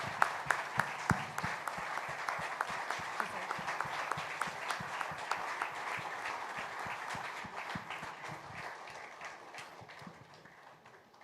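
Sustained applause from a large gathering at a sports awards ceremony, a standing ovation for a coach, with sharp individual claps standing out over a steady roar that slowly fades toward the end.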